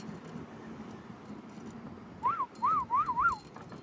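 A small dog darting onto a road gives a few short yelps and whimpers, rising and falling in pitch over a steady background of traffic and road noise while someone commutes by bicycle.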